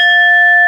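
A single bell rings out loud and sustained, a clear steady tone held without decay, marking the start of a comment-of-the-week segment on a cartridge talk show.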